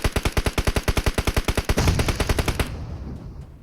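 A fast, evenly spaced automatic weapon in a shooter video game fires about twenty loud, close shots in a steady rhythm, then cuts off into a short fading tail.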